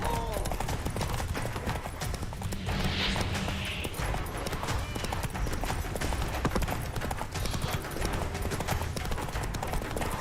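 Roach the horse galloping in The Witcher 3, a steady clip-clop of hooves running continuously under a busy mix of game sounds, with brief crashes and voices layered over the hoofbeats.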